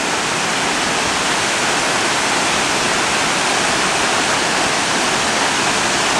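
Drift Creek Falls in Oregon pouring down, a constant broad roar of falling water, loud and even throughout with no voices.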